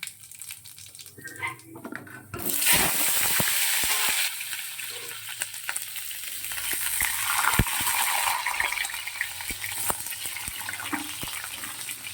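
Black cumin seeds hit hot oil for a prawn curry, bursting into a loud, close sizzle after a quieter opening, then crackling steadily with sharp pops.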